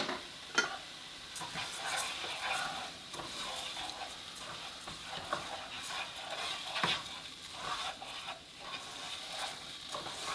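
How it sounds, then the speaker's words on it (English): Jasmine rice toasting in a pan with turmeric, garlic and onions, stirred steadily for a steady scraping rustle over a soft sizzle, with a few sharper utensil clicks near the start and around the middle. "Toast that up for about 2-3 minutes. Stir that in there."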